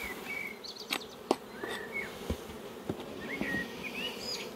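Busy buzzing of honeybees around an open beehive during a hive inspection, a soft continuous hum with individual bees darting past close by and a few light knocks, no talk.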